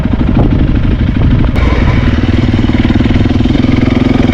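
A Honda CRF 300L dirt bike engine runs steadily close by, a continuous loud mid-pitched idle with a slight rise in revs partway through and no talking.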